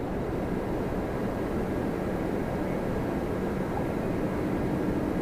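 Steady broadband rumble of a jet airliner taxiing off the runway at Toronto Pearson, heard from a distance, continuous and even in loudness with no voices.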